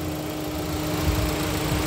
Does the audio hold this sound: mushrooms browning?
no